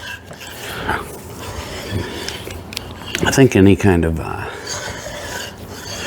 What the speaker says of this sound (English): So I'm gonna run this reamer through.